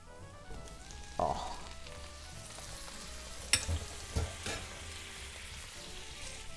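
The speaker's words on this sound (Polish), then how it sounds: "Czosnek na patelni trzymamy dosłownie minutę i dodajemy nasz bób." Garlic and broad beans fry in a pan, giving a soft steady sizzle with a few scrapes and clinks of stirring scattered through, fairly quiet and close.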